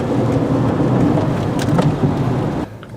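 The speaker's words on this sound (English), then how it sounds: "Hopefully the storm won't get too bad before I get in the door." Thunderstorm with steady heavy rain and rolling thunder, loud and close, continuous broadband roar that drops away abruptly near the end.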